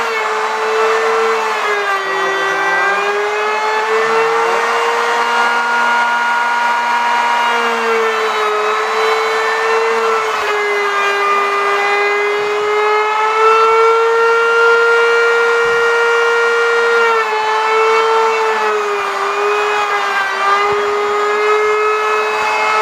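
A router cutter plunges into wood for a picture frame, giving a loud, steady high-pitched whine that holds throughout with slight pitch dips under load.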